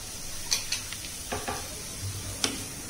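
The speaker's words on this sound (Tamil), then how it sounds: "தக்காளி சேர்த்து நல்லா கலந்து விட்டுட்டு" Chopped tomato is stirred into onion, ginger and garlic frying in oil for a Chettinad mushroom gravy, with a soft, low sizzle and a few light clinks of a spoon against the pan.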